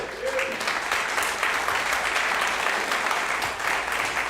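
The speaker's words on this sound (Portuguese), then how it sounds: "Aplaudam o Rei." A church congregation at a Sunday service applauds together, a dense, continuous wash of clapping that stays loud and even from start to finish.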